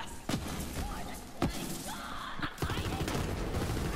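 Explosive blasts from the Skeksil gun in Borderlands 3, several sharp booming hits spaced irregularly over about four seconds, each with crackling debris and rumbling noise behind.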